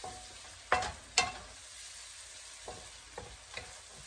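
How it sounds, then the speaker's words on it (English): Onions fry in a pan with a steady low sizzle, broken by a couple of sharp spatula scrapes early on and softer stirring strokes after, close and without talk. "the onions are starting to cook down"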